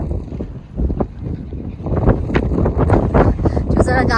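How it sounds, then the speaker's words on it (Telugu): Strong wind gusts outdoors at an alpaca farm on a warm, breezy day, buffeting loudly and unevenly against the microphone, with muffled voices partly mixed into the rumble. "చూసారా గాలి ఎలా వేస్తుందో"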